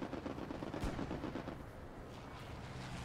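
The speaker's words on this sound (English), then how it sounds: "Getting shot from the northeast." Distant gunfire crackles across a WWII battlefield in a multiplayer shooter, with machine-gun bursts and scattered rifle shots over a low rumbling background, fairly faint and continuous.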